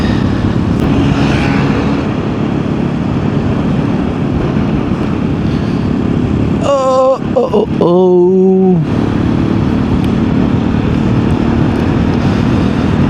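A Hero Xpulse 210 motorcycle is ridden with a steady engine drone under loud, continuous wind roar, and a voice calls out briefly partway through.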